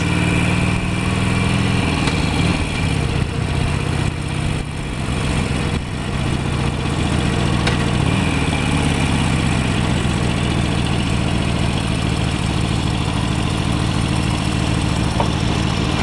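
A motorcycle engine idles steadily up close at a fuel stop, its low rumbling drone continuous throughout with faint background traffic noise and no talking.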